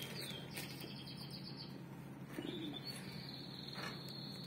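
A pet canary sings indoors in faint, brief high chirps and trills over a steady background hum, with no talking.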